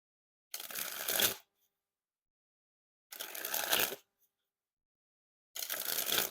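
A deck of Theory11 Deck One Industrial playing cards is sprung from hand to hand in three separate bursts of rapid flutter. Each burst is a crisp riffle lasting about a second, with silence in between.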